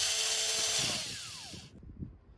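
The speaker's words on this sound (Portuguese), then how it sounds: "fazer o primeiro furo" Power drill boring the first hole in a spoked wheel rim, a loud high whine for about a second and a half before it spins down and stops, leaving a few light handling knocks.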